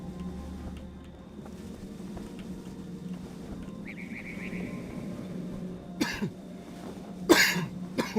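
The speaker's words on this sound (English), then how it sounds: "that cough actually kind of came out of nowhere" A person gives two sharp coughs close to the mic, the second louder than the first, over a quiet, steady low hum.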